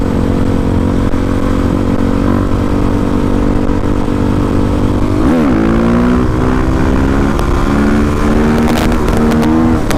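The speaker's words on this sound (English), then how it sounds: "I think I hit rev limiter and brought it down" A supermoto motorcycle engine roars hard during a wheelie and bangs against the rev limiter, loud and close, with a stuttering pitch drop midway before the revs climb again.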